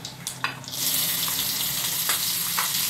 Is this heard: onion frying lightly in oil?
yes